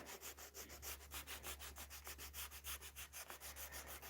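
Hand sanding on a painted surface, a steady run of quick back-and-forth rubbing strokes, close and fairly quiet, with no talking.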